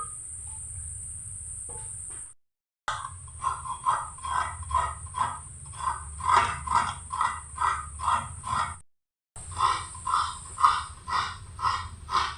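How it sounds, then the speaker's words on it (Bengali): A cracked coconut is grated by hand, close rhythmic rasping strokes repeating about twice a second in two runs separated by brief silent gaps. "এখন আমি নারকেলটা কুড়িয়ে নেব।"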